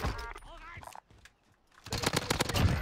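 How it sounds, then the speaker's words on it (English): Automatic gunfire in a Call of Duty Warzone match, crackling bursts of shots that come back loud and dense near the end after a quieter gap, with a player talking over the early part. "I'm getting shot from behind."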